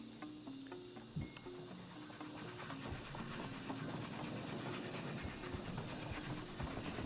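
A cargo train pulls in within the video game Oddsparks, a steady low rumbling and clattering drone that holds at a constant level with faint clicks and light hiss over it.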